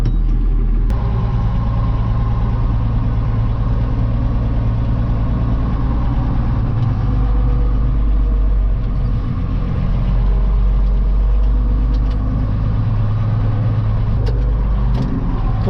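A Fortschritt ZT323 tractor engine runs steadily nearby, a loud, deep diesel drone with a continuous low rumble and no pauses from start to finish.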